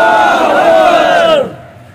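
A protest crowd answers a takbir call with a loud, close, many-voiced chant that swells, holds for over a second and then drops away quickly.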